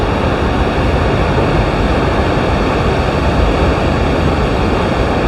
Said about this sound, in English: I hope that the thunderous roar of this waterfall is coming through